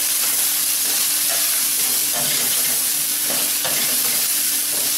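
Rice flour dough for kozhukattai is roasted in a hot pan with a loud, continuous hiss, and a spoon stirs it with soft, periodic scrapes close by.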